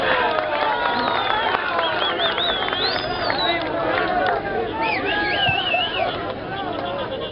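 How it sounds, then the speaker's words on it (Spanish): Crowd at a Gana Perú campaign rally in Cajamarca applauding and cheering to welcome a candidate, a dense, steady roar of clapping and voices with whistles rising above it, sustained and loud throughout. "Lo recibimos con un fuerte aplauso"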